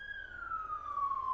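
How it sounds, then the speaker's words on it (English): An emergency vehicle siren wails outside, a single long tone sliding slowly downward in pitch as it passes. It is faint and distant, and no one talks over it. "Oh, and a siren."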